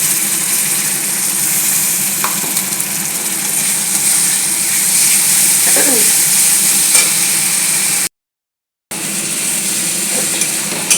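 Ginger, garlic and green chilli paste with turmeric and spices fries in hot oil for a mutton curry, giving a steady, loud, close sizzle with occasional stirring scrapes; the sound briefly drops out near the end, then resumes.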